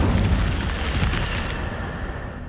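Hogwarts Legacy Incendio fire spell, a loud roaring fiery blast with booming low rumble that slowly fades over about two and a half seconds, with no talking.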